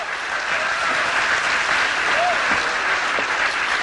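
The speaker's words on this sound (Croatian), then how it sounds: "Aplauze, sviđa!" A theatre audience at a live cabaret comedy performance breaks into sustained applause, an even, continuous roar of many hands that stays loud from start to finish.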